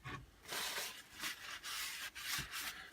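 A rough, grinding rumble from a 3D printer's worn bearings swells and fades in repeated passes as the carriage moves, close up and steady.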